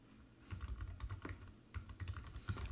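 Rapid bursts of typing on a computer keyboard, close and fairly quiet, clicking in two short runs separated by a brief pause.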